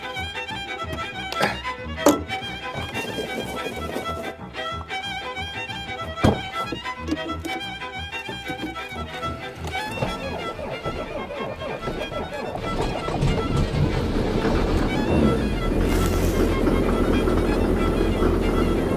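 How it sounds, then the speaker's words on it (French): A diesel car engine in a workshop idles with a rough, rattling clatter and sharp intermittent knocks, then revs up into a louder, steady roar toward the end, close by with someone talking now and then. "Le moteur il claque."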